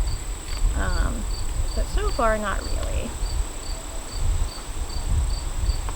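Honey bees swarm around an open hive during an inspection, a dense steady buzz filling the background while someone talks briefly over it, with a regular high periodic beep also present.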